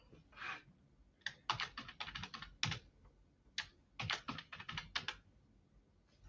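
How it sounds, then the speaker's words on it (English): Fingers type on a computer keyboard in quick clustered bursts of crisp key clicks separated by brief pauses, close and fairly soft in a quiet room. "So I'm going to type it in here."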